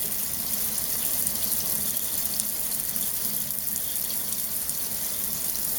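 Water runs in a steady, even hiss to wet a paper towel for cleaning the print head of an HP OfficeJet Pro 8600 printer, close and constant throughout with no voices.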